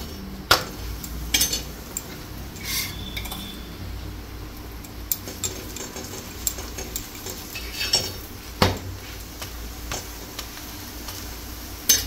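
Paratha roasting in a pan with ghee gives a soft, steady sizzle, broken by occasional sharp clicks of a utensil against the pan. The sound is close and fairly quiet, with no talking.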